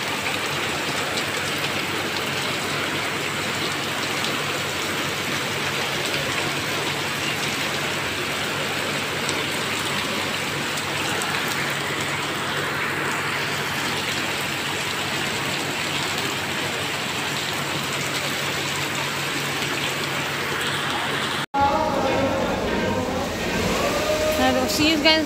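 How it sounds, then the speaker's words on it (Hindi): Heavy rain pours down in the narrow streets of Old Delhi, a steady, dense hiss that runs unbroken for over twenty seconds, then cuts abruptly to a different street scene at the end. "ये देखिए देख सकते हैं कैसी बारिश हो रही है।"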